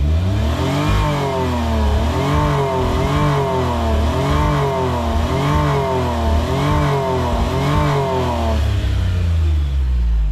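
Suzuki car engine revved hard with the throttle floored while warming up, a loud steady drone rising and falling in repeated surges for about eight seconds before settling back to a rough idle.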